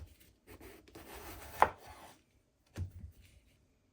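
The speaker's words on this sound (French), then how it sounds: "vous allez prendre votre aubergine, vous allez la poser dans ce sens et vous allez découper des tranches" A knife slices through an aubergine on a board, a couple of crisp cuts with a sharper crunch near the middle and another stroke a moment later, close and fairly quiet, no voices.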